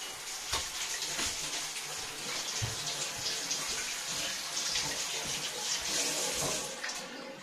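Tap water runs steadily while a pawpaw is washed under it, a continuous close hiss of flowing water with small splashes and thumps throughout.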